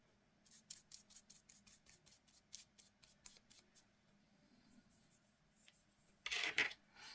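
Quiet, rapid snips of small scissors cutting wrapping paper in a series of short clicks, ending with a louder scraping rustle.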